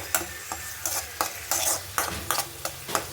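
Onions and other ingredients frying in a pan for an egg curry, with a soft sizzle under regular, rhythmic spatula strokes scraping the pan roughly every third of a second, close and without talk.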